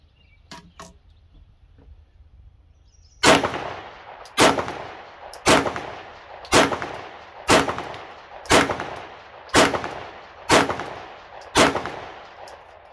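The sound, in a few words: Glock pistol shots being fired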